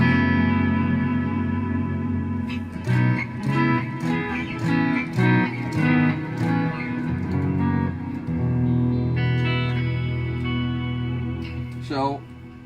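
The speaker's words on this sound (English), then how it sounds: "Reverb forever." Electric guitar through an amp rack with heavy reverb and echo effects, in an ambient setup; loud sustained chords ring out with long washy tails and repeating echoes, played alone with no talking.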